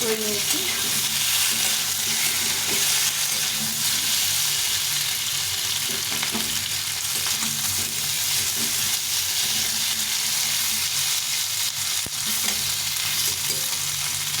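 Potatoes, fried until reddish-brown for a soybean curry, sizzle continuously in a pan, close and steady, with repeated stirring scrapes and light clatter throughout.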